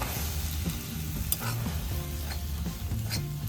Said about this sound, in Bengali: ঘিটা গরম হয়ে গেছে এবার চালের গুঁড়োটা ভেজে নেবো হালকা করে